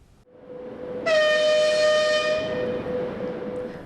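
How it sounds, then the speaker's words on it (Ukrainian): A passenger train from Truskavets stands at a station in Oleksandriia, its horn blaring a loud, steady chord for about a second and a half over the low rumble of the engine. "Саме цим потягом Трускавець з Дніпро до Олександрії зранку, 20 грудня, приїхала частинка віфліємського вогню."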